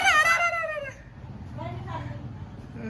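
A rooster at night lets out a loud, strained crowing call up close, followed by low clucking and a person talking nearby.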